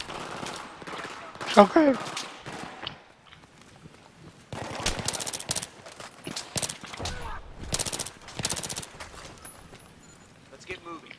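Battlefield 3 campaign gunfire comes in several loud, sharp bursts of shots separated by pauses, with a voice speaking briefly between them.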